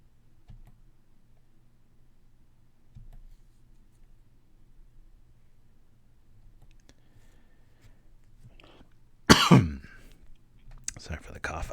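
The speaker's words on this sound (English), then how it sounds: "Sorry for the cough." A single sharp cough bursts out close to the microphone after a long, near-silent stretch with faint clicks, followed by a smaller throaty noise.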